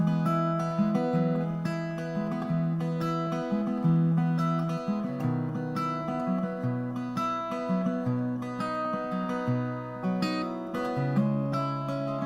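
Acoustic guitar playing the intro of a song as a continuous fingerpicked chord pattern, close and clear, with no voices over it.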